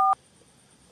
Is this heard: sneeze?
no